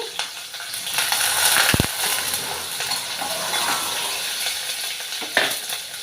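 Green and dried chilies are stirred while frying in a pan, giving a steady sizzle with scraping of a spoon and one sharp metallic knock near the start.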